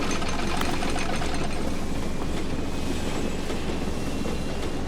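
The Bucket Destroyer machine in The Stanley Parable: Ultra Deluxe runs loudly and steadily, a dense mechanical clattering rumble like rolling train wheels that holds at constant volume throughout.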